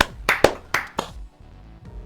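Several sharp hand claps from people recording a podcast, a quick cluster of four close, crisp bursts followed by quieter room sound with a faint tap at the end.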